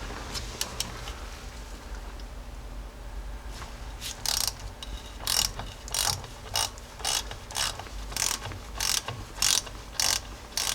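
Rapid bursts of ratchet clicking as a 3/8 ratchet backs out the two wheel cylinder bolts on a Jeep Cherokee XJ drum brake, several quick strokes in a steady rhythm, close and clear with no talking.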